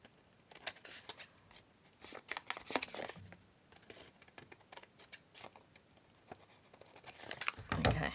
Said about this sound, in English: And then we just trim around.